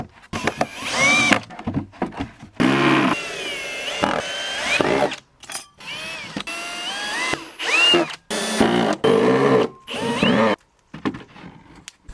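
Power drill driving screws into wooden corner brackets during an off-grid homestead build, in repeated bursts of a few seconds each whose whining pitch rises and falls, separated by short pauses, close and loud with no talking.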